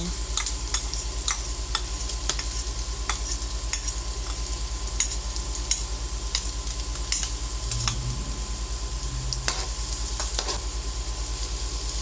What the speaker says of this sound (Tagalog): gisa lang po natin ng maigi. Nilagay na po natin ang sibuyas, isunod naman po natin ang bawang.